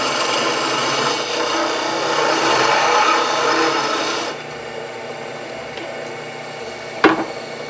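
Blackwood candle holder spinning on a wood lathe while a tool cuts it, a loud steady rasping scrape that stops partway through, leaving a quieter motor hum and a single knock.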